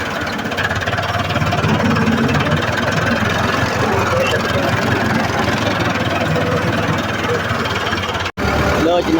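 A tractor engine idles with a loud, steady, low throbbing rumble and slight knocking, close by and continuous, with voices talking over it.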